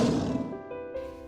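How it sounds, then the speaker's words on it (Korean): A lion's roar as a sound effect in an audiobook, heard alone as one low, rumbling call that fades over about a second, with sustained background music tones. "완인이가 말라이카를 부르듯 포효했다."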